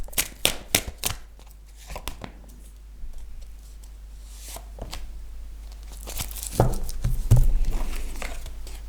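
Tarot cards being shuffled, with quick papery riffles and taps at the start, then softer scattered card handling and a few sharper snaps near the end, close and fairly quiet.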